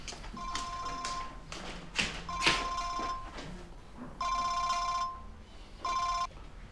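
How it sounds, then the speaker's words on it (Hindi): A mobile phone rings with bright, repeating electronic tone bursts, broken by a few sharp taps or knocks in between, fairly close and with no talking. "तुम्हारा फोन बज रहा है।"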